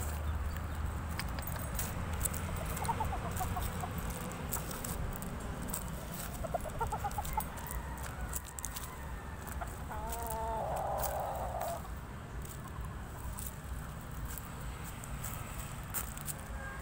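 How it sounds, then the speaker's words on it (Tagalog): Fighting roosters (gamecocks) gathered together give short clucks and calls at a moderate distance, several bursts scattered over a constant outdoor background hum. "Ito lahat ito mga pansabong na manok to."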